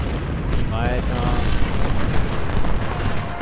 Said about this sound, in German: So, Kanonen.